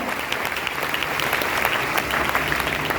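At a DXN business success-story gathering, a room full of people claps loudly, with dense, even applause and no break for the whole stretch.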